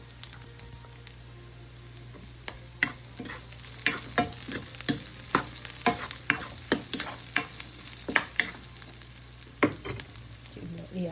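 Food sautés in a pan with a steady sizzle, while a spatula scrapes and clacks against the metal in an irregular rhythm of sharp strokes that grows busier midway.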